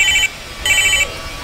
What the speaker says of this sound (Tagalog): Gusto ko yung ringtone ni Jaya.